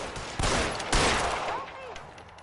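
Gunshots ring out in the 1940s detective video game L.A. Noire, two sharp loud blasts about half a second apart followed by a decaying echoing tail and faint game ambience.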